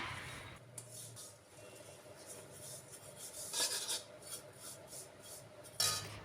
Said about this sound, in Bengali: এবার এর ভেতরে দিয়ে দিচ্ছি আমি একদম সরু সিমুই এটাকেও একটু ভেজে নিচ্ছি